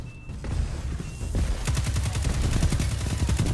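Rapid auto rifle fire in a Destiny Crucible match, a loud sustained stream of shots that starts sparse and becomes dense and steady, with game effects under it.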